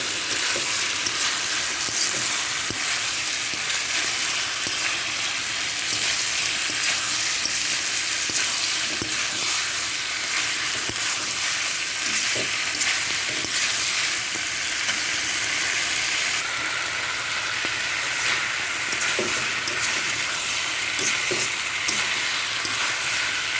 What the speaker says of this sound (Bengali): এবার এভাবে আমি কুমড়া আলুগুলো ভালো করে কষিয়ে নেব।